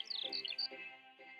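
Birds on a Dutch bog, such as snipe or skylark, chirp in quick bright bursts over a steady background, fairly close and moderately loud, with no talking.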